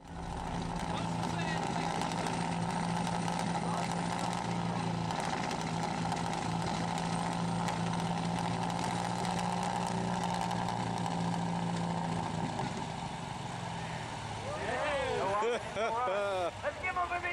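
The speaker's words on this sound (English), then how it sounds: "Participants at a truck pull event witnessed a diesel runaway situation up close." A diesel truck engine in runaway at a truck pull event roars loud and steady for most of the span, with a shift in tone and rising, wavering pitch near the end.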